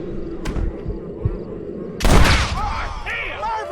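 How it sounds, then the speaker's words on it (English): Gunfire in the Western video game Red Dead Redemption: a few sharp shots early, then a loud close blast with a short rumbling tail, mixed with game effects and voices. "Marvelous shot, dear boy!"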